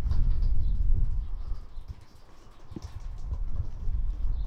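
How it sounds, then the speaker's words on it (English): Pigeons move in the roof of an old decaying rural house, with soft scuffling, faint fluttering and low cooing heard indoors against a quiet background. "Pigeons."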